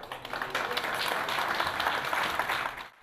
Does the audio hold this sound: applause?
yes